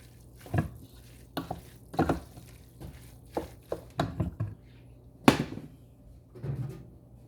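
Mashed cauliflower topping being mixed in a bowl, a series of irregular soft scraping and stirring strokes, close and moderately loud, with short pauses between them.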